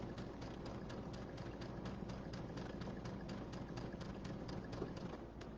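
A sewing machine runs a seam in a steady, fairly quiet mechanical hum with an even rapid stitching pulse throughout.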